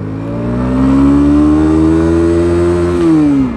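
A Bajaj Pulsar NS160 BS4 motorcycle carrying a pillion accelerates hard in first gear, its engine note climbing steadily in pitch for about three seconds before dropping back, loud and close with no talk.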